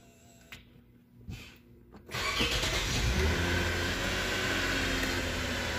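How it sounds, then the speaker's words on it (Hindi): A Lexus GS300 with an electric power steering fault starts up after a few faint clicks, its engine catching about two seconds in and settling into a steady, fairly loud idle with slight revving, heard alone without talk. "गाड़ी करते हैं स्टार्ट।"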